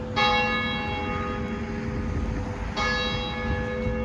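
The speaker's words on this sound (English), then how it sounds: "Yep, that's the service bell." Church service bell ringing out in New York, two loud resonant strikes about two and a half seconds apart, each leaving a long humming decay, heard alone without speech.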